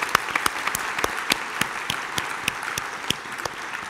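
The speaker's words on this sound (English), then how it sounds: "Let's give her a round of applause." Convention audience members clap for a pianist, a soft, steady patter of many hands with sharper individual claps standing out, moderately near and with no talking over it.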